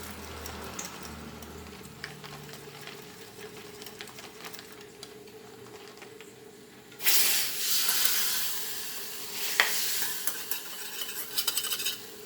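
A thick curd kadhi with chickpea flour is stirred in a pot, soft scraping at first, then a louder hissing sizzle with clinks of the spoon against the metal.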